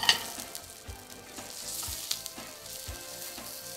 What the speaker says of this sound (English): just throw that on the pan, please